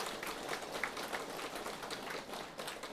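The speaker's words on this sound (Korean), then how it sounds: "우리 주님께 박수 한번 쳐야 되겠죠?" A Catholic church congregation at a Holy Spirit prayer meeting claps for the Lord, a steady, dense patter of many hands filling the room throughout, with no voices over it.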